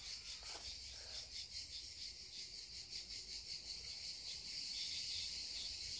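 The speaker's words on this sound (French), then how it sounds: "Vous entendez le chant des cigales ?" A shrill, pulsing buzz of cicadas drones steadily in the background in Vézénobres, France, rising slightly toward the end, with no voices.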